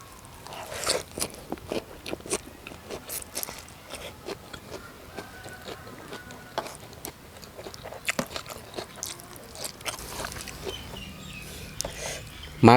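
Someone bites and chews spicy Lao-style papaya salad mixed with rice noodles and bitter greens, giving close, irregular wet crunches and smacking bites that go on steadily, with faint talk now and then.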